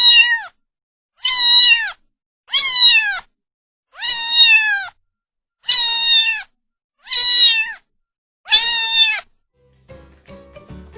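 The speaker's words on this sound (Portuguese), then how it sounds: "O miado do gato tem um som agudo." A cat meows seven times in a row, high-pitched and close, each cry evenly spaced with short silences between, followed by faint rustling.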